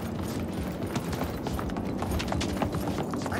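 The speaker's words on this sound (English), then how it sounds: "call an armored horse" An armored horse gallops in Realm Royale, its rapid hoof clip-clops steady and dense for a few seconds, backed by low game rumble.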